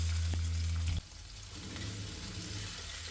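Ginger, garlic and green chilli frying in coconut oil in a clay pot give a steady close sizzle, with a loud low hum in the first second before it settles into a softer continuous crackle.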